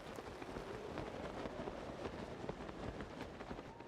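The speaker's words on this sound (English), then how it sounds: "And it's raining again." Rain falling in the video game The Legend of Zelda: Tears of the Kingdom, a faint steady patter of drops on surfaces, quiet and alone.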